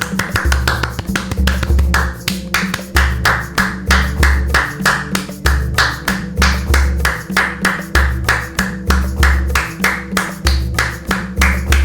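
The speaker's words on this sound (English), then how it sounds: "I'm going to play back and clap at the same time." Hands clapping in a steady, even rhythm, around two claps a second, sharp and close, with no talk, repeated over a low electronic tone that runs in the background.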